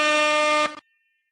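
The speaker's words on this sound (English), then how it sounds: "we closed out 2022 with an air horn officially" A single loud air horn blast, a steady, brassy tone held for under a second before cutting off abruptly, heard alone with no voices.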